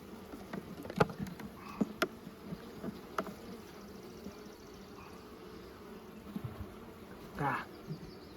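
Honeybees buzz at an open hive during a queen check, a steady faint drone with scattered clicks and knocks of hive handling close by.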